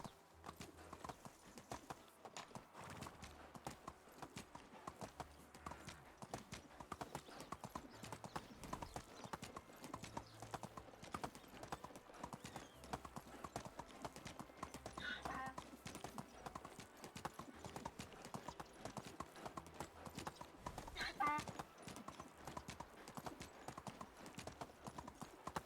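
Donkey hooves clip-clop steadily along a path in the medieval life-sim game Medieval Dynasty, a continuous walking rhythm over faint ambient game sounds with no talking.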